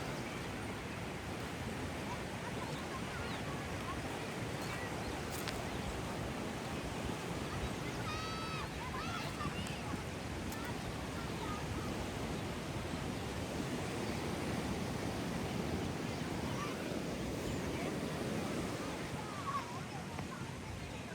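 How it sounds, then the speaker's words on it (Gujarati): Monsoon floodwater of the Uchh river surges past in its first flow of the season, a dense, continuous roaring rush heard close and loud throughout, with faint voices in the background. "અચાનક જ પાણીનો પ્રવાહ વધી ગયો છે. આ જુઓ, આટલો બધો પ્રવાહ છે."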